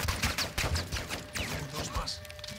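Rapid bursts of gunfire in the Modern Warfare 2 campaign, crackling repeatedly through the whole stretch under a player's voice.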